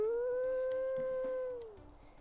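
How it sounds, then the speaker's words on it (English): A single long, steady wolf howl from the game WolfQuest, clear and sustained before tapering off at the end, with faint background sound. "Another very nice howl."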